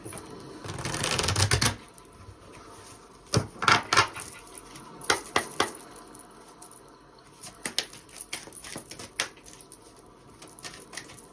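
A Soul oracle card deck being shuffled: several quick, crisp bursts of riffling and slapping cards, close to the microphone, separated by short quiet gaps.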